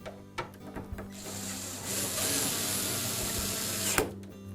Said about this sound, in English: we'll first of all just tighten these screws on the opposite side